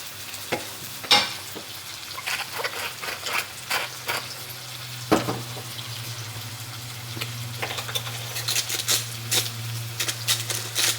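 Aubergine pieces sizzle steadily in a hot pan, with frequent sharp clicks and scrapes as they are stirred and turned, close and fairly loud throughout.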